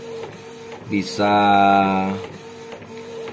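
A Canon IP2770 inkjet printer prints on art paper with Dyeart photo ink, giving a loud mechanical whirring feed and buzzing carriage pass, with a voice speaking briefly alongside.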